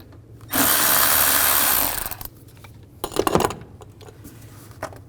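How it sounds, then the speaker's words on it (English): An 8mm socket on a power driver whirs in one loud, close burst of about a second and a half, loosening a worm clamp on a GMC Yukon air intake, followed by a few softer clanks and rattles. "Then loosen up the worm clamp here. Use an 8mm socket."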